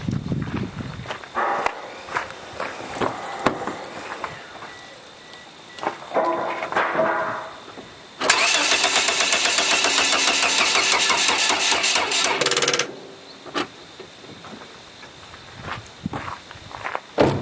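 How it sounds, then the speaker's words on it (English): A car engine cranking off a 12V capacitor mini boost pack, the starter whirring in a fast rhythmic churn for several seconds, preceded and followed by footsteps and handling noises. "see how long it will crank the car before it runs out on the mini boost pack"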